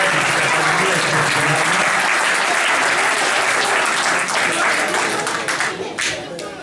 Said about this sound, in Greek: Θα ήθελα να πω ένα ακόμα χειροκρότημα ζεστό για όλους αυτούς που απαρτίζουν την Ακαδημία της ομάδος, τη Βάσο την Καλαμάκη